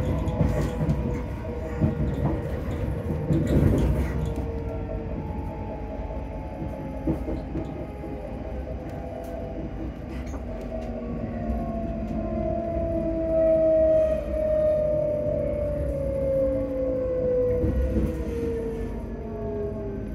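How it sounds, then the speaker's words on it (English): A passenger train rolling along rails, a steady rumbling drone with a rising and falling whine and brief screeches, loud and continuous with no talk over it. "Please mind the gap when alighting from this train."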